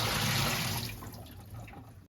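Water from an Osmo Fresh Fusion Air reverse osmosis filter gushes out in a loud, close pour that tapers off over two seconds.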